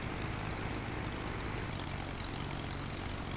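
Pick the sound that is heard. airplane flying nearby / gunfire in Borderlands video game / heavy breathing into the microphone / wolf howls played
airplane flying nearby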